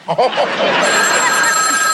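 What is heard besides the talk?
telephone ringing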